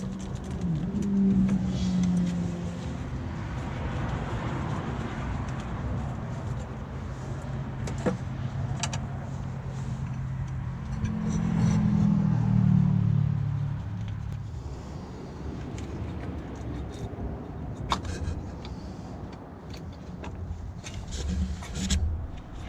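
An old tractor engine with no petrol in it cranks over without firing, giving two spells of low, grinding turnover separated by quieter handling noise.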